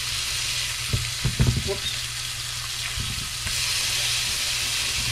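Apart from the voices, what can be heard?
fish frying in a pan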